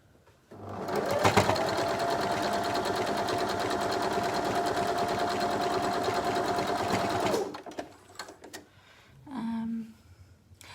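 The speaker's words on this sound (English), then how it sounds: "Right, so now I'm going to stitch this top strip together." A sewing machine stitches a top strip of quilt fabric for an Ohio Star block, starting with a sharp rise into a loud, steady motor whir that runs for about seven seconds and then stops, followed by faint handling clicks and a short hum.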